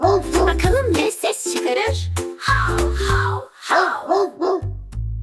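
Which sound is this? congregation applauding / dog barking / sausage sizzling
dog barking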